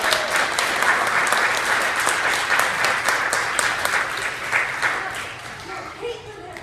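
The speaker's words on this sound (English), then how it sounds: "if we could just give a round of applause to" An audience breaks into applause, a thick, sustained clapping that holds steady for several seconds before thinning and fading toward the end.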